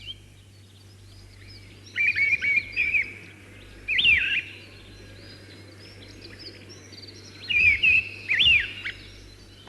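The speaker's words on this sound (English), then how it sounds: "The song of the mistle thrush or stormcock." A mistle thrush, or stormcock, sings in the English countryside beneath the South Downs in early March, in three short bursts of bright, fluting phrases separated by pauses, fairly close, over a steady low hum.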